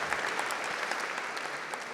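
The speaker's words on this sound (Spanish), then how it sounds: "Un fuerte aplauso para los embajadores aquí que pronto van a ir con nosotros." Steady applause from a conference audience for ambassadors, a dense, even wash of many hands clapping that runs unbroken for the whole stretch at moderate volume, with no talk over it.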